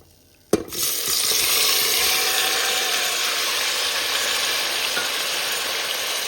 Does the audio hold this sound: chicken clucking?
no